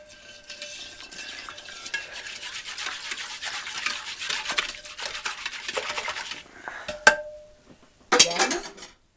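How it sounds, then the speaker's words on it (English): Apple pectin jam mixture being stirred in a pot, a steady close scraping swirl of the spoon against the pot for several seconds, ending with a couple of sharp metallic clinks. "So we want to make sure we get it stirred and mixed really good."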